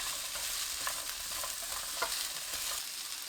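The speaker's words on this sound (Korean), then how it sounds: "삼겹살 기름에 마늘 넣고 중불로 30초 볶아주세요. 감자 넣고 중불로 2분 볶아줍니다." Potato pieces stir-frying over medium heat in rendered pork belly fat with garlic, a continuous bright sizzle broken by repeated scraping stirs, close and fairly loud with no voices.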